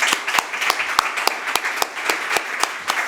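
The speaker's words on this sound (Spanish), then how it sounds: "Vamos a dar un aplauso al ponente." A small audience at a private security conference applauds the speaker, with distinct individual hand claps standing out over a softer bed of clapping at a fairly steady pace.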